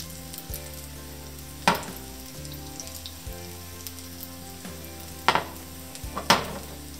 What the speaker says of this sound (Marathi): आपण थोडं थोडं तूप सोडून घेऊया कडेला, म्हणजे डोसा आपला छान क्रिस्पी होईल बरं का.